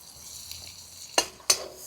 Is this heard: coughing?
no